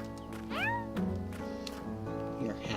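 A cat in the farming video game Staxel meows with rising-falling tonal calls, a couple of clear meows amid soft background game sounds and a voice talking.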